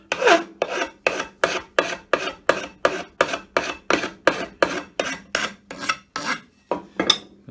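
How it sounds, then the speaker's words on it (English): A sanding block rubbed back and forth on a 12-inch bandsaw's replacement upper guide, giving about sixteen even, rhythmic rasping strokes, close and loud, with no talking. "I might just run a sanding block on there just to neatness."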